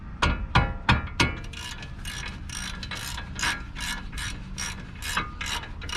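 A hand ratchet clicks rapidly while loosening the bolts on the spindle knuckle of a 2006 Nissan Pathfinder 4.0 SE, opening with a few loud sharp strokes and then settling into a run of quicker, softer, even clicks, close up with no talking.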